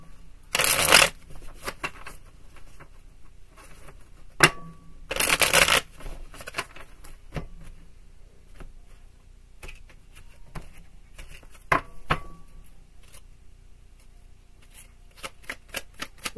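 Tarot cards shuffled by hand in a few loud riffling bursts, each about half a second long, with softer card handling, taps and faint ticks in between.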